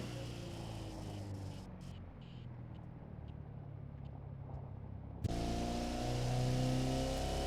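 Car engine in the Automation car company tycoon video game, a faint steady engine drone under quiet play that jumps to a louder, higher revving tone after a sudden gear change.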